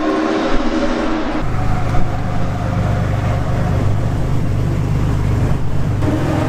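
White Mercedes race car at the Classic Days Le Mans 2024 event, a loud steady engine roar that swells as it passes nearby, continuous with no talk.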